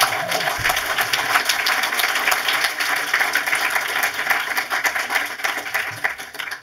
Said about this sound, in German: Ja, einen Applaus.